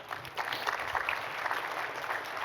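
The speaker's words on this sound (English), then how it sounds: "I think y'all ought to give Lois a round of applause." Audience applause at a healthcare conference panel, steady dense clapping throughout a short stretch with no pauses.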